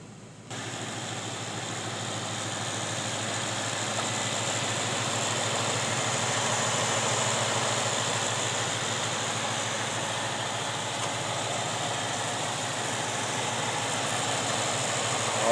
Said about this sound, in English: I'll give it a little rev. Kind of open up the window so we can hear that.